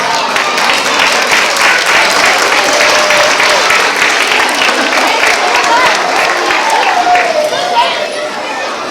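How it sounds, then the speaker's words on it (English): Sustained applause from a large crowd, dense and steady clapping throughout, tapering slightly at the end, with faint chatter underneath. "One more round of applause"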